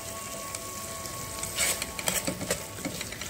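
Pasta frying in olive oil while being stirred in a pan, a steady soft sizzle with scraping stir strokes and light clinks in the middle and end.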